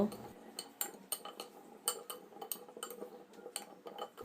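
A utensil scrapes and clinks against a bowl while corn is tossed with pepper and chili powder, giving irregular, close, fairly quiet taps and scrapes.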